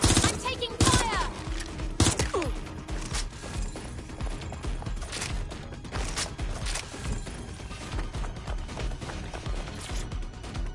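Rapid gunfire in the Watch Dogs Legion video game, bursts of automatic shots crackling loudly throughout amid mechanical clatter, with a voice speaking over the firefight.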